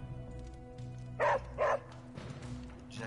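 A dog in the video game Marvel's Midnight Suns gives two short, bright bow-wow barks in quick succession over a quiet game soundtrack hum, followed by a faint yip.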